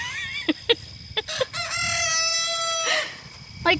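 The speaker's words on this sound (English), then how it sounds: "You'll get to hear the teenage rooster." A young teenage rooster on a homestead crows once in a loud, strained, wavering call after a few short clucks, with faint farmyard background around it.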